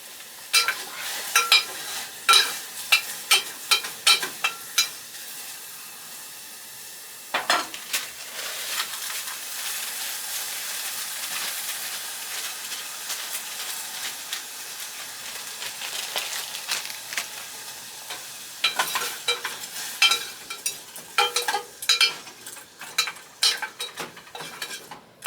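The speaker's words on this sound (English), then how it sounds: "Let those onions cook a little bit." Chopped onions fry in a pot as the base for kimchi jjigae, with a steady sizzle under repeated scraping and clinking stirs from a utensil against the pot. There is no talking.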